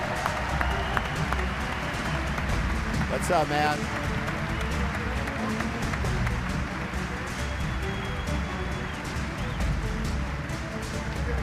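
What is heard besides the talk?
audience applause for a football signee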